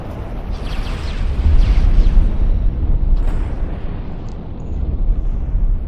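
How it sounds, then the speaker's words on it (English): A large explosion in the space game X4 Foundations, as destroyers and bombers attack, gives a sustained deep rumbling roar for several seconds, swelling and then trailing off with a low, dense tail. "Explosion imminent."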